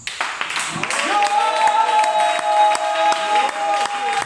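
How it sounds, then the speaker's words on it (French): A church congregation at a French-language seminar stands and cheers for Jesus, with raised shouting voices, scattered claps and crowd noise swelling and holding throughout. "est-ce que quelqu'un peut se tenir debout et acclamer Jésus?"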